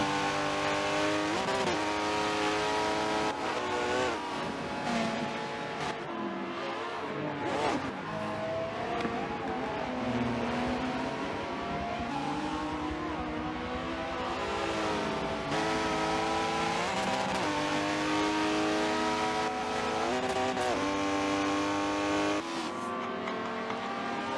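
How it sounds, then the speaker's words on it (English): Race cars, among them a Ferrari, roar continuously around a circuit in a 1980s racing video game, with engine notes rising and falling as they shift and pass, steady and loud, with no talk. "Got just over 3 laps left where Send has got to fend off that monster"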